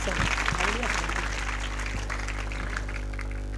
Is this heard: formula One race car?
no